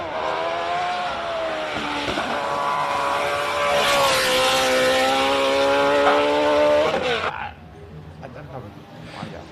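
A race car engine screams at high revs during the Simola hill climb, loud and sustained with steady harmonic tones for about seven seconds, then cuts away abruptly into fainter background noise.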